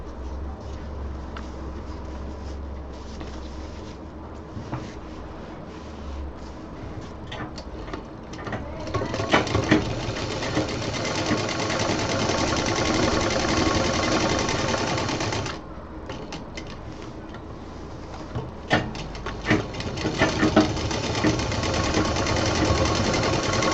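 A sewing machine stitches fabric for a baby diaper bag, a loud close rapid mechanical whirring chatter that runs in long bursts and grows busier and more intense partway through, with a brief slowdown before it picks up again.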